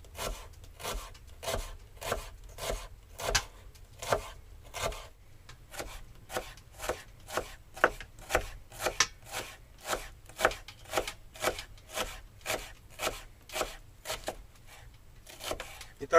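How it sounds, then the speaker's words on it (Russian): A knife slices a halved onion into thin half-rings on a board, with steady rhythmic close chopping taps, about two per second, in a quiet kitchen with no talk over them. "Лук режем напополам"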